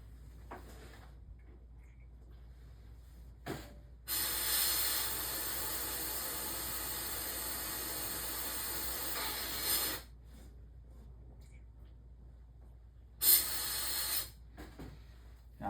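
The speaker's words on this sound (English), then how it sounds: "I spray a little bit through here to make sure it's sitting in there" Airbrush spraying water through its paint bowl, a hiss lasting about six seconds, then a second shorter burst after a pause, each opening and closing with small clicks against a quiet room.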